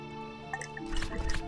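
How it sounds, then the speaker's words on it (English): Tea is poured in the video game Book of Hours: a few light drips, then a brief, gurgling stream of liquid filling a vessel, close and clear with no talking. "Now at this point I should pour the tea."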